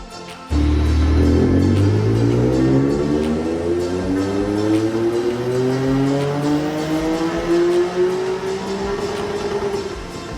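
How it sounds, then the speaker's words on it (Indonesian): A Honda NSX V6 sports car engine roars loudly and accelerates, its tone climbing steadily in pitch for several seconds before levelling off. "Suara mesin NSX juga menjadi daya tarik tersendiri."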